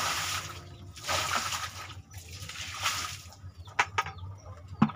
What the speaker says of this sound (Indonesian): Jadi pertama ini kita siram dulu